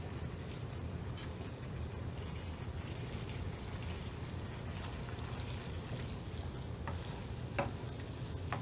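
Tomato sauce for a traditional couscous simmers and bubbles in a pot, a steady low crackling sizzle with occasional stirring clinks, continuous and close with no talking.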